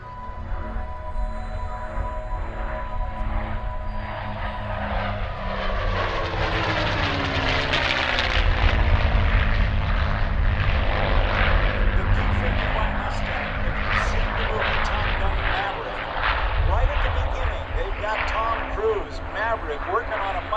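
Several P-51 Mustangs with Merlin engines fly by in formation at the 2024 MCAS Cherry Point air show, a loud sustained propeller drone that swells and shifts pitch as they pass, with an announcer talking over it.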